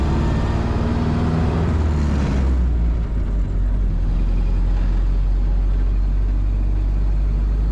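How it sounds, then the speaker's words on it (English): Restored 1931 Ford Model A five-window coupe with a three-speed floor shift, its engine droning steadily with a low rumble as it drives, loud and close with no talk. "Today we're driving a 1931 Ford Model A."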